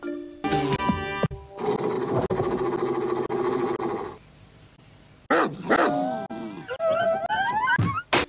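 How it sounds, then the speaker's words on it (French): A cartoon dog from Rugrats barks in several loud, tonal bursts, with a brief quiet gap midway, then more yelping, whining barks. "Le chien!"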